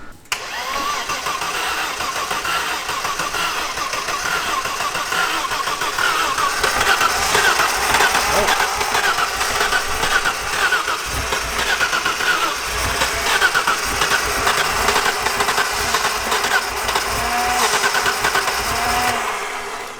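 BMW E30 with a blown engine cranking over, catching and then running: a rough mid-pitched engine sound that settles into a loud, steady idle close by, with no talking.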